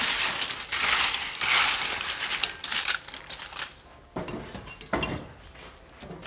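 Tortilla chips being stirred into simmering chilaquiles sauce make a dense, continuous crunching and crinkling, with scraping against the pan and a few sharper clacks near the end.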